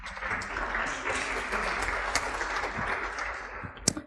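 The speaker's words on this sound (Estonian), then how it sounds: "Okei, aplaus!" An audience at a health and nutrition conference applauds steadily for several seconds at moderate volume, with the clapping thinning and a few isolated claps near the end.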